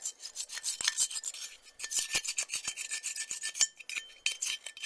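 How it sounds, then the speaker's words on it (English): Ash cake being scraped out of a pellet stove, a series of close, gritty rasping strokes with short pauses between them, carrying on steadily throughout with no voices. "And that gets the cake to come out. Just give it a quick scrape."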